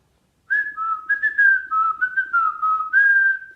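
A person whistles a tune, a clear, close melody of short connected notes carried alone over near silence after a brief quiet start.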